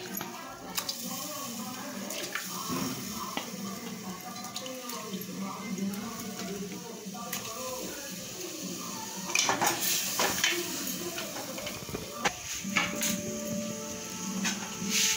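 Egg koftas for nargisi kofta go into a pan in a home kitchen, bringing soft clinks and knocks of cookware and utensils over a steady background hiss, with a few sharper clatters partway through.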